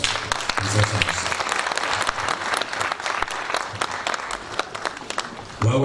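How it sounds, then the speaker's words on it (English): Sustained audience applause fills a formal gathering honoring a distinguished guest, dense clapping running steadily throughout with a brief surge near the end. "A round of applause, His Excellency."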